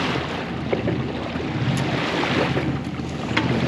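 A boat running over small waves in the Mediterranean, sailing from Port-Leucate toward the Balearics, with steady rushing water and wind noise buffeting the microphone throughout.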